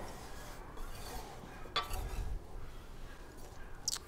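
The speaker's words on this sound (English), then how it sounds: "one more stir and we can set that aside" Poke bowl ingredients with minced green onion being stirred in a bowl, a few soft scraping clinks of a utensil against the dish, close and quiet, with no talking.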